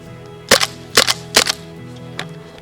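WELL PRO PP-19 airsoft SMG fired outdoors at minus twelve degrees, four crisp snapping shots spaced about half a second apart, close and loud, with a fainter fourth shot trailing off.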